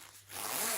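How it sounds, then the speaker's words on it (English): A quick zipper pull as an extension panel is zipped onto a maternity coat's zip: a short close rasp that builds to a bright, sustained zip. "So if you zip this basically onto your zip,"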